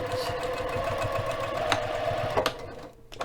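A sewing machine stitching a line runs with a steady rapid mechanical chatter for about two and a half seconds, then stops abruptly with a small clunk.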